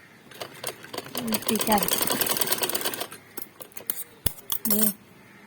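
A sewing machine stitches piping along a frock's neckline in a fast whirring run, then in several short bursts of stitching, while someone talks over it.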